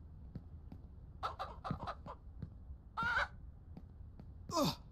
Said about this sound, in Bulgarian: съм нападнат от кокошка и ще умра